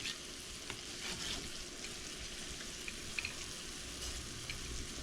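Meat frying in a pan with onion, a steady close sizzle hissing without a break and an occasional small pop or clink rising above it.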